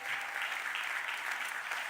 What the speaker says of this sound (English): Give Angela Brooks and Jesse Lawrence a huge round of applause